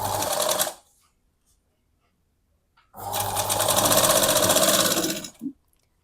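A sewing machine stitches a blouse seam in two close, steady whirring runs, a short one and then a longer one of about two and a half seconds, separated by silence.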